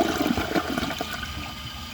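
A Vortens Vienna toilet flushing, a close, loud rush of water swirling down the bowl that gradually eases over a couple of seconds.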